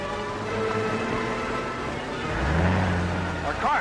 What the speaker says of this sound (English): Our car's running wild.